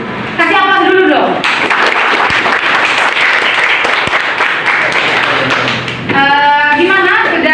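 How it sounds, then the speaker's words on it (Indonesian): Loud applause from a classroom group fills most of the stretch, a dense steady clapping that rises abruptly and fades near the end, with brief voices talking before and after. "Kasih aplaus dulu dong"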